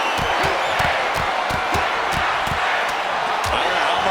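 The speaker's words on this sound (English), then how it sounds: "and this crowd is hot." Hot crowd at a fist fight cheering and roaring in a steady dense wash, with sharp punch-like thuds and slams landing every half second or so throughout.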